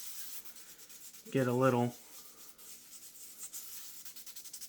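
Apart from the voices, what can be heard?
scuffing shaving brush handle with abrasive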